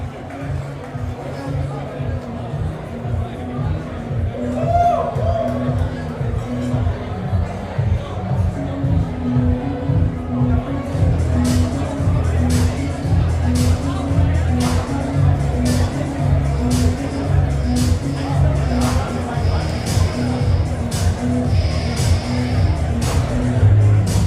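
Wedding reception guests chat and murmur in a ballroom, a dense, loud crowd babble with overlapping voices and a steady rhythmic thump of background music underneath.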